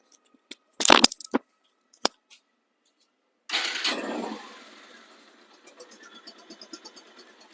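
A second-hand Bajaj Pulsar motorcycle in showroom condition is started: a few sharp clicks and knocks, then a loud cranking catch that fires into a faint, evenly pulsing idle.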